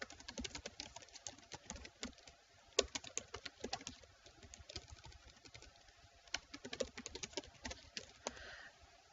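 Computer keyboard keys tapped in irregular bursts of close, crisp clicks while a course introduction is typed, with a few sharper keystrokes standing out; no speech.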